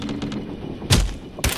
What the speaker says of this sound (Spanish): ¿Escuchan esos disparos?